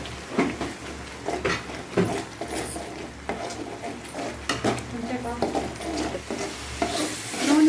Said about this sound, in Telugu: తెల్లగడ్డ, అల్లం పేస్టు, టమాటా పేస్ట్, ఎర్రగడ్డ పేస్ట్ బాగా వేయించుకోవాలి